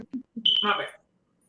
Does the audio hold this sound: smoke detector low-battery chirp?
yes